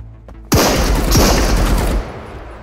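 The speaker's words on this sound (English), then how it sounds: "Oh shit, that gun is too loud." A Stoner rifle in the video game Marauders fires a loud, close burst of rapid automatic shots lasting about a second and a half, then cuts off.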